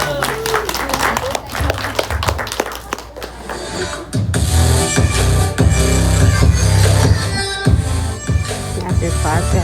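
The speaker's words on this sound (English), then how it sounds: "Everybody give a big round of applause for Marcus." Loud applause from a crowd at a leadership retreat welcoming a guest speaker swells and carries on, with music playing underneath and beats thumping through the clapping.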